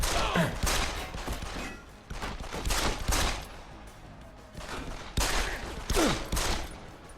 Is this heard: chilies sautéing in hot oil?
no